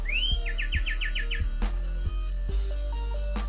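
A small sirtu bird chirps close by: a rising whistle followed by a quick run of seven or so sharp, evenly spaced tweets, with faint background noise.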